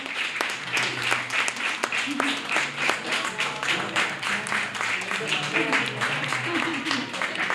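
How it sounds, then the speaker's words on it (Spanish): A gathering of colleagues at a public transport event gives a round of applause, its irregular claps steady and moderately close, with voices murmuring underneath throughout. "Un aplauso, compañeros."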